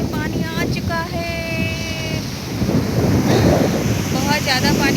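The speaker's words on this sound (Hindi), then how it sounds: "बहुत ज़्यादा पानी आ रहा है, बहुत बड़ी बड़ी लहरें भी आ रही है।" Big sea waves surge onto a shore in a continuous roar that swells louder in the second half, buffeted by wind on the microphone, with tonal chirping sounds near the start and end.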